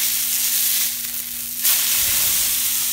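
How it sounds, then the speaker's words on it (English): Burger patty sizzling in a pan just after being flipped, a loud steady crackling hiss up close with a brief dip then a fresh surge of frying. "you're gonna wanna flip your burger"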